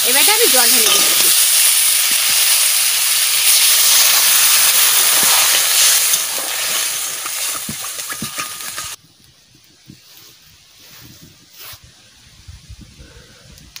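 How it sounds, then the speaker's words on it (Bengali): Water poured into a pan of frying carrot, cauliflower and potato gives a loud hissing sizzle that eases off, then drops to a quieter bubbling simmer with light clinks. "এবারে আমি জল ঢেলে দিচ্ছি।"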